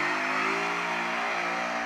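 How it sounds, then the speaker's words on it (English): A Ford Mustang holds a sustained, loud engine rev during a burnout, a steady droning roar with a faint hissing edge from the spinning rear tires. "that's essentially how to do a nice, safe, easy burnout"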